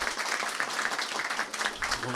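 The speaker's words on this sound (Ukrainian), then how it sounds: "Гарного оплески Олегу, непогано поспілкувався." Audience applause at a comedy improv show in a hall, a dense, steady wash of clapping from the crowd that holds throughout at moderate volume.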